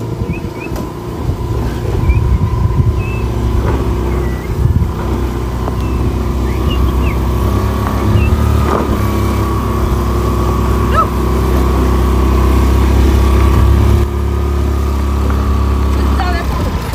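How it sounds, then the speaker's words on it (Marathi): A car engine labors steadily while climbing an off-road hill on the Masai plateau near Panhala, a continuous low drone with small surges, with people talking over it. "गाडी चढणार फुल ऑफ रोडिंग."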